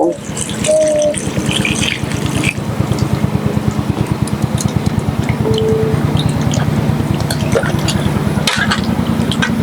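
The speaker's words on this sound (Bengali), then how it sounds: "এবার আমি এই আমগুলোকে জল দিয়ে ধুয়ে নেব" Peeled raw mangoes are washed in water, giving a close, continuous splashing and sloshing with a rhythmic, pulsing stir and occasional clinks.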